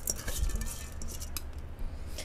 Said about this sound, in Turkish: Şimdi tencereye buğdayımı ilave ediyorum.